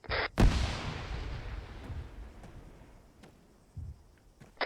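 Grenade blasts during a tactical training exercise, one sharp loud burst near the start followed by a long rolling decay, then a smaller thump later, heard from a moderate distance without speech.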